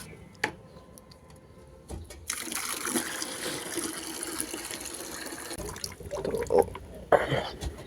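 Water gushes from a tap into a bucket, a steady splashing rush that rises partway through, with a few clunks and faint voices nearby.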